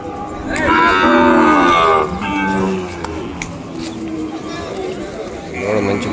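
Ongole calves at a busy Kodada cattle market give loud, drawn-out moos, several calls overlapping in the first seconds and again near the end, with people talking and crowd chatter throughout.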